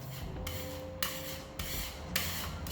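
Body filler being rubbed and spread over a dented panel before painting, a steady close scraping rasp with a few sharper strokes standing out, heard alone without talk.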